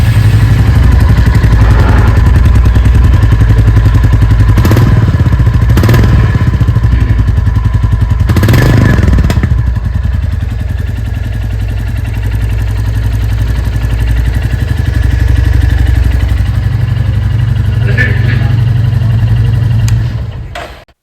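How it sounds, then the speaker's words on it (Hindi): A Royal Enfield Classic 350 Stealth motorcycle engine runs loud and close, a bassy, thumpy single-cylinder idle with several sharp throttle blips early on, then settling into a steady idle before cutting off at the end. "अब साउंड सुन लेते हैं इस बाइक का कैसा है।"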